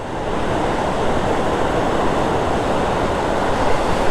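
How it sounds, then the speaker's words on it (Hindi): Water of the Koshi river rushing through the barrage gates in full flood, a loud, dense, continuous roar with no break. "नदी में जो धार है वो देखने लायक है, ज़बरदस्त। पूरे वेग से पानी जा रहा है।"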